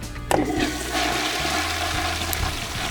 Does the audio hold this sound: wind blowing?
no